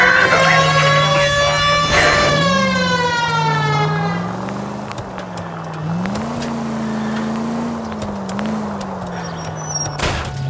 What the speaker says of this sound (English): at least use the siren